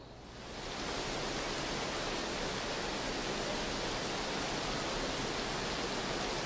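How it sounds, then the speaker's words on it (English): Loud, steady roar of a waterfall in Final Fantasy XII's Nalbina Fortress, rising within the first second into a dense, unbroken wash of rushing water that stays alone at full strength. "And that waterfall is loud as fuck."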